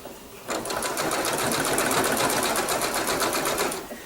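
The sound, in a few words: sewing machine stitching quilt binding with blanket stitch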